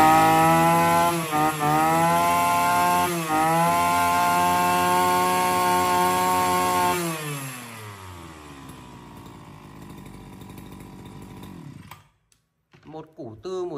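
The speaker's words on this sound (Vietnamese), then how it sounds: "C4 cho một chiếc máy cắt cỏ nòng 36 ly" A petrol brush cutter, the C4 model with a 36 mm bore, runs loud and steady close by, then its engine winds down and cuts out near the end.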